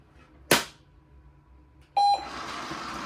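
A sharp click is followed by a Treat & Train dog training aid emitting its loud high tone, a brief steady beep, then the whir of the treat dispenser motor running on, close with no talking.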